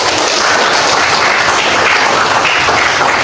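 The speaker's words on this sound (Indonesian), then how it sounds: "beri aplaus untuk kita" A classroom group gives steady, dense applause that fills the whole moment, loud and close with no talking over it, right after a lesson on reforestation and recycling.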